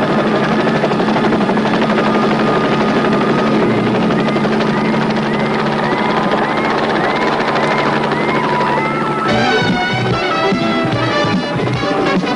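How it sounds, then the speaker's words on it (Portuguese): A helicopter descends, its loud, steady rotor chop and turbine whine filling the scene continuously, with a brief shift in tone near the end. "o helicóptero está descendo."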